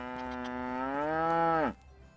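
A cow in the medieval life-sim game Medieval Dynasty lets out one loud, drawn-out moo, rising slightly and holding steady before dropping off abruptly, heard clearly and alone.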